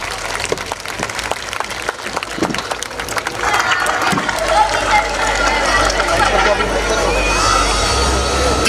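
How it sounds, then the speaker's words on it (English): A voice speaks briefly, then loud applause from a school annual day audience, applauding teachers, breaks out and continues steadily to the end. "Let me give our teachers a round of applause."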